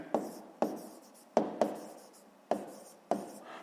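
A pen writes on paper during a sixth-grade maths exercise, making six close, distinct taps, each followed by a short scratchy stroke, in an irregular rhythm.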